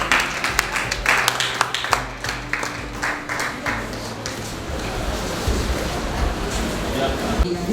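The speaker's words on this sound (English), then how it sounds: "please give a round of applause to Team Farm Aid" An audience claps for a pitch team at a designathon session, scattered then fuller applause with sharp individual claps early on, settling into a softer ongoing patter.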